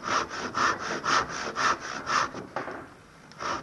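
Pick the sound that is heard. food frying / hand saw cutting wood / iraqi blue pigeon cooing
hand saw cutting wood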